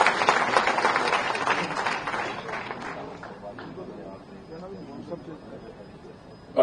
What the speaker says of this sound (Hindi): जोरदार तालियों के साथ में माननीय सतीश जी।